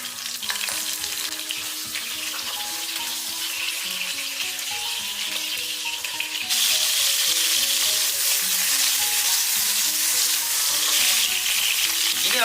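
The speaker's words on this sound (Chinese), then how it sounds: "下锅以后不要着急翻动，开小火给它慢煎，煎至定型。" Slices of winter melon pan-frying slowly in oil over low heat, giving a steady, close sizzle and crackle that grows louder partway through, with no talking.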